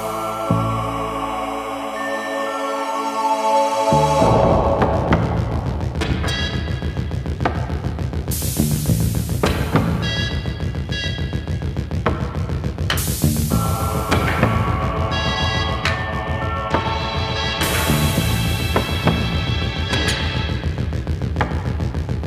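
A synth-pop title track plays, opening on a sparse electronic intro before a full band with steady drums, bright synths and recurring swelling bursts kicks in, loud and continuous.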